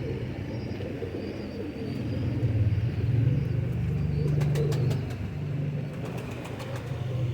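Prized pigeons coo in low, soft, rolling murmurs close by. A faint steady rumble runs underneath, and a few brief chirps and rustles come near the end.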